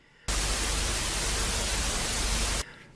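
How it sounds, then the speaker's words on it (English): Static-like white noise from a recording of a magnet underwater, a loud, dense hiss that starts abruptly, holds steady for a couple of seconds and cuts off. "They can be like white noise that you hear on your TV when it's all staticky"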